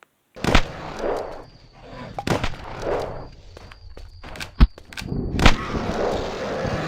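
Gunfire from firearms in the PC game Castleminer Z: several sharp, loud shots spaced a second or two apart, each with a short decaying tail, over a low background hum.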